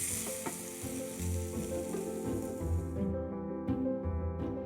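Mushrooms sizzle in butter in a frying pan as they are tossed, a steady crackling fry with soft stirring clatter, fairly quiet and close, with no speech.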